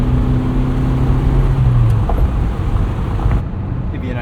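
A 1980 Ferrari 308 GTBi with a gated five-speed, heard from inside while driving: a loud, steady engine drone with a low hum that shifts in pitch, wrapped in constant broadband tire and road roar that eases slightly near the end.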